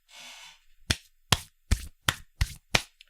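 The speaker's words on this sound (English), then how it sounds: "that is the sound of me wiping my hands together." Hands wiped and brushed together near the microphone during a Detroit: Become Human playthrough: a short soft rub, then five sharp, evenly spaced slapping brushes of the palms, quiet and alone with no talking.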